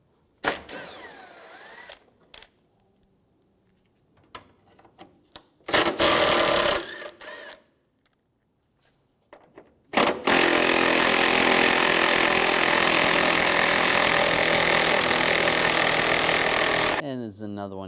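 Power tool driving a 10mm socket to remove a headlight bolt on a 2007-2013 Mini Cooper, with short whirring bursts early, then a long loud continuous buzzing run near the car, separated by quiet gaps.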